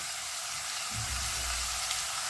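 Onion and coconut frying in a pan for a clam curry with drumstick and potato, a steady close sizzle with a soft stir partway through.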